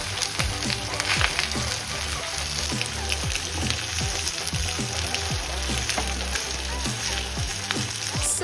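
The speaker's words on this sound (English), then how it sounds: "Now drop in few butter slices on all the sides to have that sizzling effect." Butter slices sizzle and crackle on a hot vegetable sizzler plate, a loud, dense, continuous frying hiss with rapid popping spatters that run throughout, close up and without voices.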